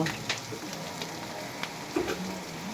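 A bay leaf sizzles in hot oil in a pan while taki fish is being cooked, giving a steady frying hiss with scattered small pops and crackles at moderate, close volume.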